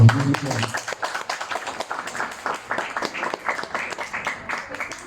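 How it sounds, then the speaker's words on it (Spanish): Audience at an International Women's Day conference in Peru giving a round of applause, with irregular hand claps that start strong and continue at moderate loudness, and a voice heard briefly at the start. "Le vamos a recibir con fuertes palmas a Rosalinda Carmina"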